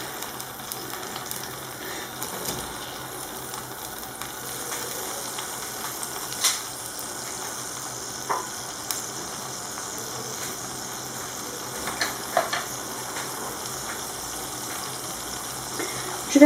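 Lamb pieces frying in a pan for a tagine give off a steady, moderate sizzle with scattered small pops and crackles, with no one speaking.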